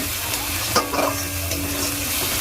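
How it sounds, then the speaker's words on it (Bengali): Chicken coated with turmeric and chili powder sizzles steadily in a pan. A couple of spatula scrapes and stirring bumps rise briefly over the frying near the middle. No voices are heard. "দিয়ে হালকা করে একটু নাড়াচড়া করা হচ্ছে"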